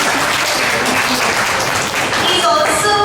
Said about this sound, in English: this demands applause